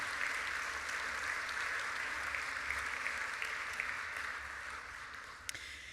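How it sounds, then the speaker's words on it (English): An awards ceremony audience applauds the finalists with sustained, even clapping throughout, loud and dense, tapering only slightly at the end. "another round of applause for everyone that actually was a finalist"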